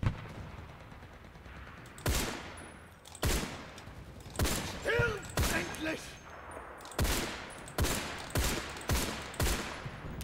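Repeated sharp gunshots from a Mondragón M1908 rifle in the Enlisted video game, a run of loud cracks with reverb tails spaced about a second apart, and brief talk heard between the shots.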